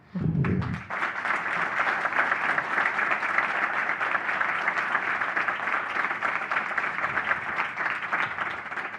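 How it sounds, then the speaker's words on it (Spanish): An audience at a ministerial interview event bursts into sustained, even applause that begins abruptly and fills the room for several seconds without speech. "le quiero pedir un aplauso"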